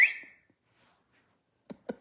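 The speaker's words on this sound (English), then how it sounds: "I'd go out on the porch and whistle for her." A person whistles on a porch to call a cousin: one loud, sharp whistle at the start fades quickly, followed by near-silence, then two short, separate knocks or taps close by near the end.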